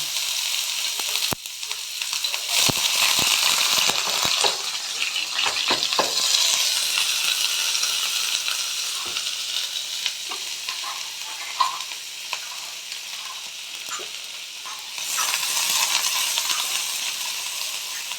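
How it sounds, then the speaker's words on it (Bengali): Steady sizzling of onions frying in hot oil, with a few clinks and scrapes of stirring in the pan early on. "এবার প্যানটা গরমই হয়ে গেছে, পেঁয়াজগুলো দিয়ে দেবো।"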